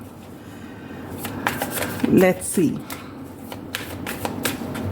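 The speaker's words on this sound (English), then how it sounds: "I will be live shuffling the tarot as well as the oracle" Tarot and oracle cards are shuffled by hand close up, giving a few quick riffling bursts and soft slaps, while someone speaks briefly over them.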